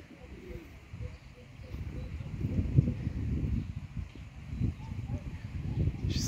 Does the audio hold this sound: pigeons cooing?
yes